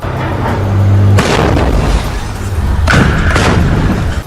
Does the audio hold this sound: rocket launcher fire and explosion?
yes